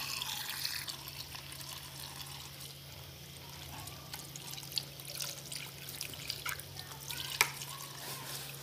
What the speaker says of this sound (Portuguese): Agora vou pôr o maciante aqui.